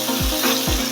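Thinly sliced shallots with ginger and garlic sautéing for beef kondattam, a close continuous sizzle with a low hum beneath and two soft stirring sweeps.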